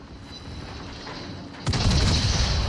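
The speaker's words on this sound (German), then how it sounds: "jetzt schießt meine Secondary schön los auf beide Seiten" Secondary gun batteries of a Renown battleship firing in World of Warships, a steady low rumble erupting into a loud, dense burst of booming shots that continues to the end, with no talking.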